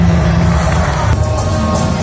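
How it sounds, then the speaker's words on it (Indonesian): Audience at a sea lion show in an Ocean Dream Samudra arena at Ancol, Jakarta, raising a dense, steady wash of crowd noise with cheering and clapping. "Dan tepuk tangan dari sini."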